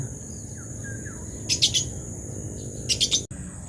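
Short bursts of high bird chirps, two quick clusters, over a low steady background hum.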